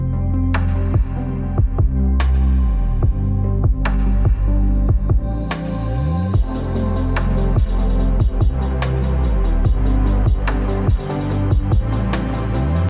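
An EDM verse built from arpeggiated synth chords layered with a thick supersaw, a loud, rhythmic pulsing pattern with punchy repeated hits and a steady groove throughout, no voices.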